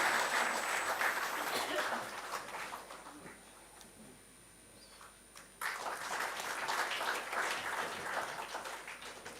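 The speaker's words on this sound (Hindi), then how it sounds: "तो आपकी बहुत ज़ोरदार तालियां मैं अपेक्षित है यहाँ पर इस मौके के लिए" An audience at an Indian digital media and influencer honours ceremony applauds an award recipient with dense, sustained clapping that eases in the middle and then swells again, heard from within the hall.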